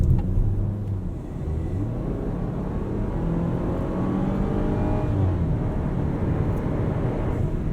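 Turbocharged engine of a 2019 Volvo XC40 T5 AWD R-Design heard from inside the cabin while driving, a steady low drone with whirring boost tones rising and falling over road noise, no talk.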